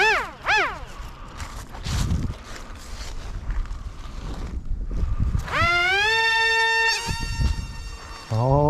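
A Deerc Z-65 RC airplane on its first flight out of the box in gusty wind, its small electric motor whining loudly and rising in pitch as it takes off and climbs, with wind buffeting the microphone.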